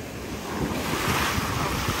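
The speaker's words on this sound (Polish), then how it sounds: "Zobaczcie, jak jest prąd wsteczny, to zobaczycie, jak wywali piasek na plażę i zacznie go tak mocno zasysać." Ocean surf washing onto a beach where a rip current pulls water back, a steady rushing wash of waves with wind buffeting the microphone, fairly close and without any voices.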